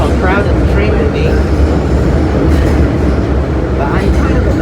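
Loud, continuous rumble and rattle inside a Hong Kong MTR South Island Line M-Train carriage near the rear of the train, running steadily with no talk.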